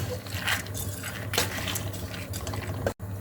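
Peanuts roasting in a pan over a medium flame for peanut powder, with a steady dry rattling and clinking of nuts against the metal all through, close and fairly loud, with a short break near the end.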